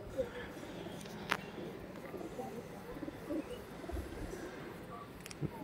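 A breeding pair of pigeons cooing quietly nearby, low soft calls mixed with faint chirps and a little background talk.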